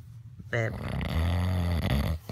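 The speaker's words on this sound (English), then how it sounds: "Do you have to turn over because you're snoring?" Man snoring in bed, a close, loud, drawn-out rumbling snore taking up most of the clip.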